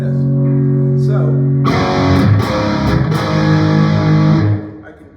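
A Gibson Les Paul electric guitar played through distortion, with sustained chords and sharper strummed hits, loud and close; the tone shifts partway through before the notes cut off at the end.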